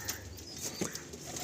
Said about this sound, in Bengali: এই হচ্ছে এখানে কিছু পায়রা রয়েছে